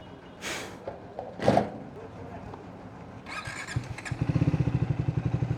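A motorcycle on a trip toward Sasan Gir, freshly refuelled, starts up amid some background noise and settles into a close, steady thumping idle.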